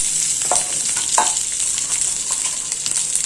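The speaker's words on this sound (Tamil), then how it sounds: "பொரியும் போது நம்ம இந்த கோவக்காயும் வெங்காயத்தையும் ஆட் பண்ணிக்கலாம்." Ivy gourd and chopped onion frying in oil with spluttering mustard seeds, a loud continuous sizzle with a few sharp pops and scraping stirs near the start.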